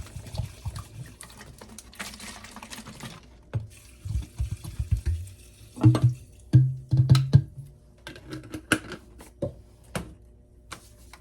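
Liquid pours into a jar of fire cider ingredients in several bursts of splashing and gurgling, with quiet pauses and small drips between pours, close up and alone.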